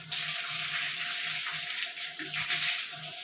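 Water is poured in a steady, hissing rush that runs throughout, with faint low thumps underneath and no talking.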